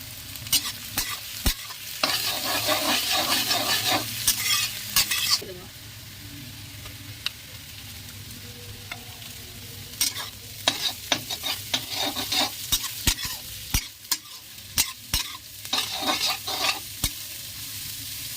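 Onions and green chillies frying in oil for egg chowmein, with loud sizzling bursts and repeated scraping, clattering stirs of a spatula against the pan, pausing and resuming across the stretch.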